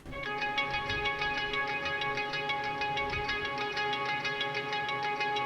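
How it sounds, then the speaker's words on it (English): A clean electric guitar rings out in shimmering, sustained arpeggiated notes with an airy, spacious wash, steady and moderately quiet with no talking. "we have this new guitar track coming in here, this clean guitar"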